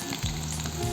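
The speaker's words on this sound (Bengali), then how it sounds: "খুব কম আঁচে ওইগুলো ভেজে নিতে হবে।" Fish stuffing frying in oil over low heat for a stuffed kangla fish dish, giving a continuous, close sizzle with crackling bubbles throughout and no voices.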